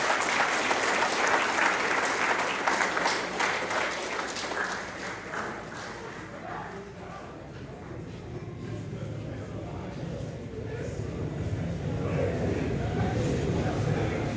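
Students at a lycée ceremony applaud together in a dense, sustained wave of clapping that eases slightly midway and then swells again, with voices mixed beneath it.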